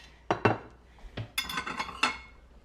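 China plates clinking as they are handled, a few sharp ringing knocks and clatters in quick succession, close and fairly loud.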